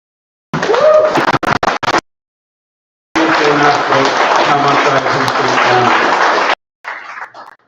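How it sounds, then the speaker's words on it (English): Audience round of applause at an outdoor-style awards presentation, choppy and cut into segments, with clapping mixed with scratchy handling noise and some background voices. "I think they for a round of applause."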